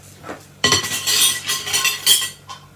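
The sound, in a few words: fishing a metal sealing lid out of a pan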